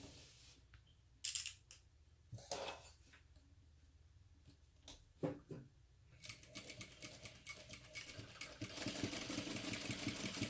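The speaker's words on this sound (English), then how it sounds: "You'll sew right along that line." Sewing machine stitching a diagonal line across fabric, a few quiet clicks and handling bumps, then a rapid steady mechanical whir building up close at the end.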